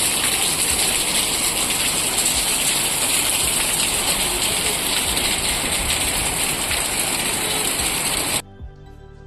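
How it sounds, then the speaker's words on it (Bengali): Heavy rain pours steadily at night outside a house, a dense, loud, continuous hiss of drops on surfaces that cuts off abruptly near the end, leaving near silence. "ঝমঝমিয়ে বৃষ্টি, সবেই ঘরে ঢুকেছি, আর এত জোরে যে বৃষ্টি এসছে"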